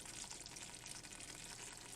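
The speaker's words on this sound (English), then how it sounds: "So let's just keep stirring this, sauteing this for about 2 minutes." Collard greens sauté in a pot with seasoning, giving a steady, soft hiss and sizzle with faint stirring scrapes throughout; fairly quiet and continuous with no voices.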